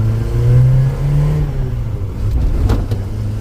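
A cheap used Isuzu Trooper 4x4 engine runs steadily and pulls away, with a loud, close, even rumble and a slight rise in revs and no voices.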